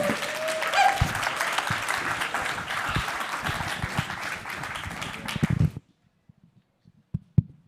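Audience applause rises to welcome a philosopher, writer and activist onto the stage, a dense, loud wash of clapping that holds steady for several seconds, then cuts off abruptly, leaving a few faint knocks and movements in near silence.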